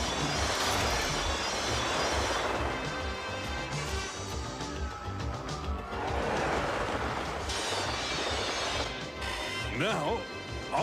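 A cartoon train slows to a stop with loud clanking, crashing and screeching brake effects running continuously, layered with busy noise and bursts of squealing.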